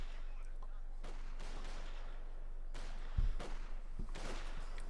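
Gunfire from a Company of Heroes 2 battle between Wehrmacht and Soviet forces, a sustained crackle of rifle and machine-gun fire with a sharper nearby shot, mixed with battle noise under faint commentary.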